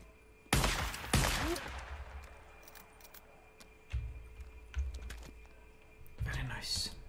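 Two sharp, loud sniper rifle shots from a video game ring out close together near the start, followed by quieter thuds and a brief burst near the end.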